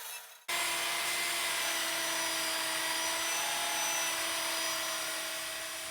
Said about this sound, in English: So now I'm going over the area I just cleaned with the 40 grit drum.